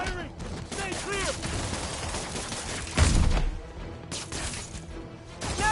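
Gunfire in the Spider-Man PS4 video game, heard as loud rapid bursts and scattered shots amid a busy fight with crashes and a heavy impact, and voices calling out over the action.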